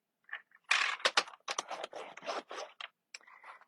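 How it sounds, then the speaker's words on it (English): A scoring tool drags along cardstock for a Christmas treat box in a series of short, close, crisp scraping strokes with brief gaps between them, and no voices. "we are going to score again at 1/2 inch"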